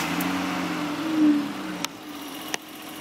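BMW 325i E30 engine idling with the stock airbox, a steady close hum with a slight swell in the middle and two sharp clicks near the end.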